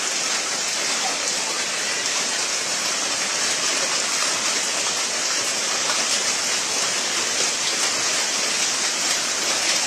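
Heavy rain pours down hard and steadily outside a house, a dense, continuous loud hiss of downpour with no pauses and no voices.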